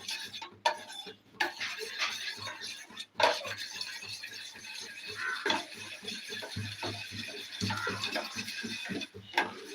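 Sugar caramelizing in a pan is stirred with a utensil, giving a steady run of soft scraping and clinking strokes close by, with a few brief louder knocks.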